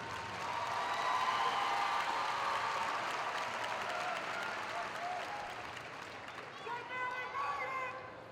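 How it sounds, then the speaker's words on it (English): A crowd at a high school graduation ceremony applauds the graduating seniors, broad sustained clapping that slowly thins out, with faint voices and chatter rising near the end. "Let's give them a big round of applause."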